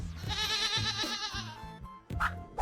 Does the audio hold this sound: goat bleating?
yes